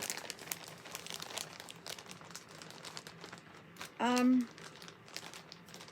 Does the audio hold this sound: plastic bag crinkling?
yes